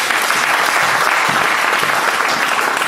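A church congregation breaks into dense, sustained applause, loud and close, filling the hall with steady clapping and no pauses.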